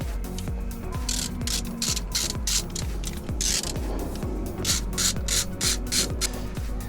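A ratchet clicks in a steady, rapid rhythm while removing 10mm nuts from the cooling system of a BMW E46, close and continuous throughout.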